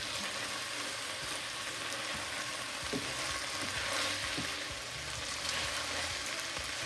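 Salt fish frying in a pan with tomatoes and thyme gives a steady, close sizzle that runs the whole time, with a few soft stirring clicks and no voices.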